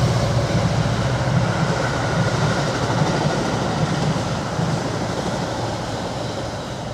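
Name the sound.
commuter train passing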